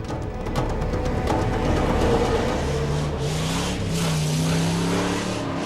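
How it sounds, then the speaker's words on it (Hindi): A car drives toward a forest road in a Hindi police drama, its engine a steady, loud, continuous rumble with a rising tone near the end, filling the whole stretch with no talking. "जरा गाड़ी जंगल की तरफ ले चलो।"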